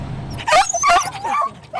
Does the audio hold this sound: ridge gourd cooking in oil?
no